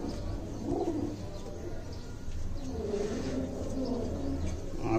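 A red-eyed kasoori golden pigeon coos softly in low, repeated calls over a steady background hum, with faint chirps mixed in and no voices.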